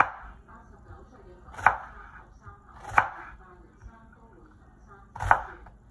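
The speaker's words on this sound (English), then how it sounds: "so now we're going to cut our onion into slices" An onion sliced with a knife on a cutting board: three sharp, separate cuts land at uneven intervals, close and distinct, over a quiet background with no talking.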